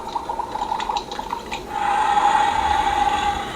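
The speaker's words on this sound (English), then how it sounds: "And it's bubbling. Fizzing up top." Beast Lab Reptile toy chamber from Moose Toys bubbling and fizzing, a steady close liquid hiss and gurgle that grows louder and denser partway through, with no talking.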